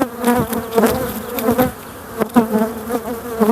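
Honeybees buzzing loudly at an opened hive, a close, wavering swarm drone with individual bees sweeping past the ear, no talking.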